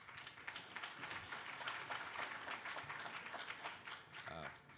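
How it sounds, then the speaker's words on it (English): Audience applause for a hackathon finalist at a closing ceremony in New York: a crowd clapping steadily throughout, heard at a moderate distance in a large room. "Please give them a big round of applause."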